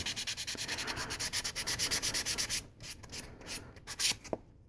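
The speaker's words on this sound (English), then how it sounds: "Just help the resin or the primer and the paint adhere better by giving it a light sanding" A small resin doll part, a 1/8-scale Volks figure, is lightly sanded by hand in close, rhythmic back-and-forth scratchy strokes, brisk and regular at first, then slower and more scattered.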